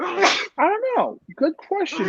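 A sneeze bursts out at the very start amid a podcast conversation, followed by several voices talking.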